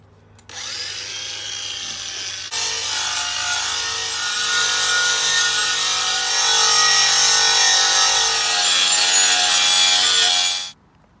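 An abrasive preparation wheel sands a metal part during a Ford ST170 restoration, giving a steady, loud grinding whirr that holds for about ten seconds before cutting off.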